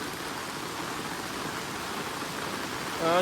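Heavy rain drums steadily on an umbrella during a downpour by a swollen river, a dense, even hiss that holds throughout and swells slightly near the end as a brief tonal sound rises.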